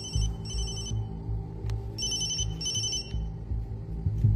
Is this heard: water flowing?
no